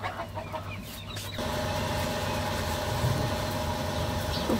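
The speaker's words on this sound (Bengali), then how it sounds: "এটার মধ্যে এখন ওই মুরগিটা বসিয়ে দিব।" A broody hen being settled onto eggs in a nesting spot clucks softly, low, continuous murmuring sounds rising under a steady louder background hum after the first second.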